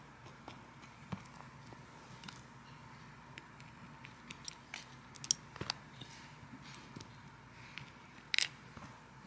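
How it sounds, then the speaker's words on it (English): Metal Disney pins clicked into place on a pin backpack, a sparse series of small sharp taps and clicks up close over quiet background, with a couple of louder clacks near the end. "So maybe I'll just put away a few of the pins on here just for the ASMR of it."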